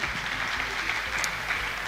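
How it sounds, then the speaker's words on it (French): Audience applause at a conference session on regional logistics corridors, a steady wash of clapping across the whole moment with no pause. "sous vos applaudissements s'il vous plaît"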